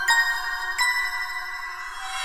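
A phone call fails to connect, giving an electronic ringing tone with two sharp onsets followed by a sustained tonal hum, loud and close with no voices.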